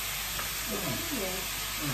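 Cabbage steaming with a teaspoon of butter in a pan, a constant loud hiss and sizzle, with a voice talking faintly underneath.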